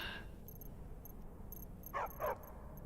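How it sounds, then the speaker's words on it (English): A dog gives two short, sharp barks close together over steady background hiss and faint high game tones, with no talk during the barking. "Shut up, dog."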